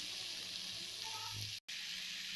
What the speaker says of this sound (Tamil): நல்லா நம்ம இதை வதக்கிட்டு போறோம்